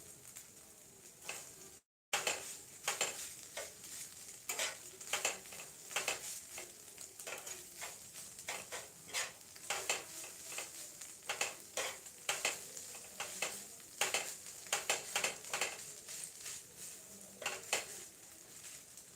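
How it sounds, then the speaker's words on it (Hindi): Crispy egg bhujia fries in a pan with a steady sizzle, while a utensil scrapes and stirs in quick, repeated strokes that run near and clear throughout, with no talk. "ये बन के तैयार हो रहा है अंडा का करारा वाला भुजिया।"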